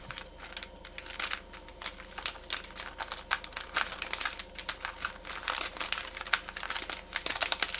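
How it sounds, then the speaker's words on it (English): A vinyl sheet is pulled back and torn by hand, giving close, irregular crinkling and crackling with quick sharp bursts throughout and no talking. "give this a little trim underneath so I can kind of tear it where I need it"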